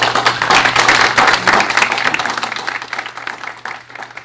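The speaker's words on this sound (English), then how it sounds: "Let's give an awesome applause for our distinguished panel." Audience applause for a panel at a blockchain and artificial intelligence event, a loud burst of many hands clapping that gradually thins out, with a steady low hum underneath.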